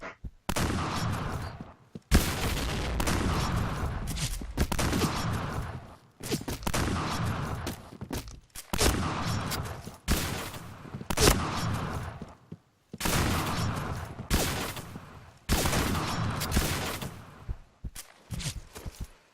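Repeated pump shotgun blasts and bursts of gunfire in the online shooter Point Blank come in loud, dense volleys separated by brief pauses, with no talk over them.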